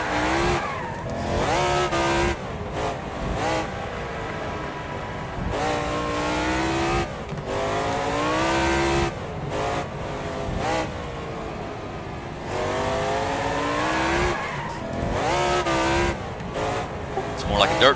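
Race car engines roar and rev through a dirt-track race in the Wreckfest video game, with tires squealing and skidding, loud and continuous with rising and falling pitch throughout.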